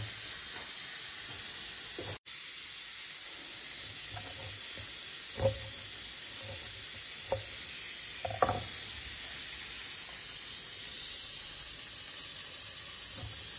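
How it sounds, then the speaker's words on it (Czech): Pork bone broth simmering on a kitchen stove gives off a steady, continuous hiss that fills the whole clip, with a few soft clinks and bumps and one sharp click partway through; no one speaks. "Tady pokud tam slyšíte, jak tam něco syčí, tak to si vařím vývar na další vaření"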